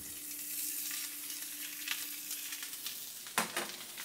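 Uncured pork belly, salted, sizzles steadily on a griddle, a close, even crackle of frying fat with a few sharper pops and spatters near the end; nobody speaks.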